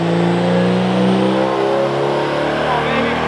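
A car engine revs hard at full power during a dyno run, a loud, steady, sustained roar with rising harmonics that holds for several seconds without a break.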